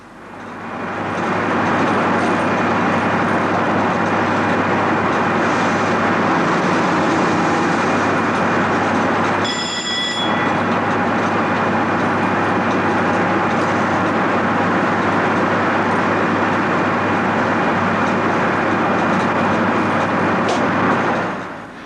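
An HST train runs along the Midland Main Line, a loud, sustained rushing roar lasting throughout, with a brief tonal screech in the middle and no speech.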